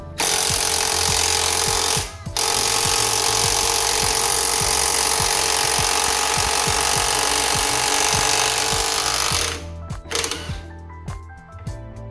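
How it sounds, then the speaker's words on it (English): An impact wrench hammers steadily and loudly on the 22mm swing arm axle nut of a Honda Hornet motorcycle, one long rattling burst with a brief pause, then winding down into a few short bursts. "So there is a 22mm nut for the swing arm axle, and now we're going to remove that."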